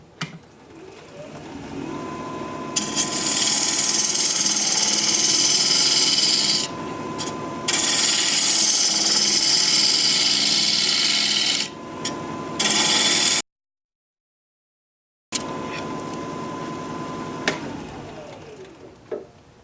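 A wood turning tool cuts a live edge, end grain winged bowl on a lathe, producing a loud, continuous rough scraping and rasping that breaks off briefly a few times, with one full dropout to silence.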